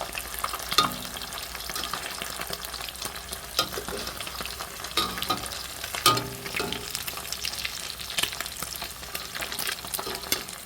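Sprat fish fry in hot oil for Jamaican escovitch, a steady crackling sizzle broken by occasional sharp pops and stirring clatter.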